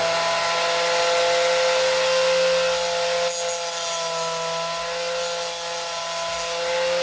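Steady whirring grind of a power tool tapering the end of a freshly cut arrow shaft, continuous and loud with a constant tonal hum throughout.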